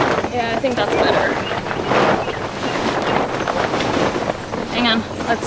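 Strong wind blasts across a farm hoop coop build site where tarps are being fitted, a loud, continuous roaring rush with gusts, while people talk underneath.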